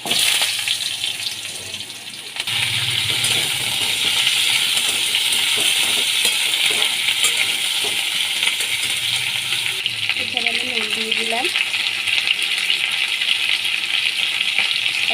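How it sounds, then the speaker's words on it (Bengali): Pieces of elephant foot yam fry in hot oil tempered with five-spice seeds and green chillies, giving a loud, steady sizzle that holds throughout, with a brief clatter of stirring partway. "দিয়ে দিচ্ছি ওলগুলো ভালো করে ভেজে নেব"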